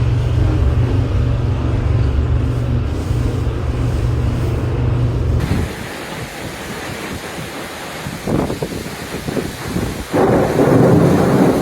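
Thunderstorm with heavy rain and strong winds over southern Ontario, with flooded streets: a loud, steady low rumble of wind and downpour for about five seconds, then lighter rain with bursts of thunder and gusts building again near the end.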